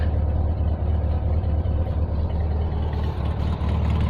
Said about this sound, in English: As you can hear, the engine's running quite well.